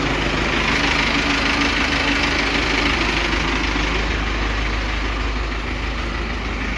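An Arjun tractor with a green trolley idles loud and close by, giving a steady, dense, low rumbling drone that does not change.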